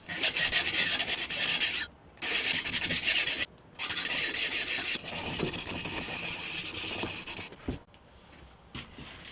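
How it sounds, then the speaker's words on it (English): A handmade knife blade is sanded by hand with 220 grit sandpaper, giving loud, rapid back-and-forth rasping strokes in several bursts separated by brief pauses, close to the microphone and without speech. "So I'm going to do some hand sanding."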